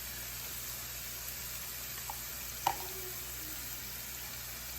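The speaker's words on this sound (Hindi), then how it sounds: "अभी इनको भूनेंगे सबको थोड़ी देर के लिए, जब तक इसका ऑयल निकल जाए।" Masala with tomato paste and paprika frying in oil, a steady, moderately faint hissing sizzle with a single small tap midway and no one talking.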